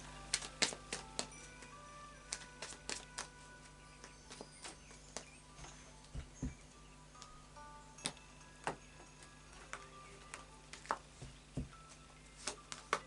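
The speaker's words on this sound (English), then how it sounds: "So I'll just do a final shuffle now of the Lightseers Tarot." A deck of Lightseers Tarot cards is shuffled by hand, producing quiet, irregular clicks and soft riffling taps close by, with no talk.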